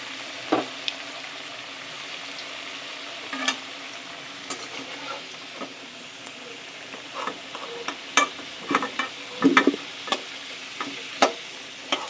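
Potatoes frying in oil in a kadai for a chicken curry, a steady close sizzle broken by occasional clinks and scrapes of a spatula turning the pieces, with no one talking.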